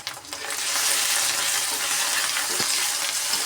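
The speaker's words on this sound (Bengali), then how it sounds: "মশলাটাকে সুন্দর করে ভাজতে হয়" Spices frying in a pan with a little salt added, giving a loud, steady sizzle and crackle that holds evenly throughout, with no voices.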